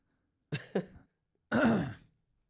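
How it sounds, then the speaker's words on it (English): A person clears their throat with two short, close rasps, then a longer gravelly throat clearing after a brief pause. "clear the throat for that one"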